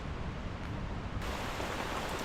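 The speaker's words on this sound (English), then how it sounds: "The rain was pounding and the wind was howling" Heavy rain pounds down with wind at a sheltered campsite tucked back from the ocean on Vancouver Island, a steady dense hiss that grows fuller and louder partway through, with no voices.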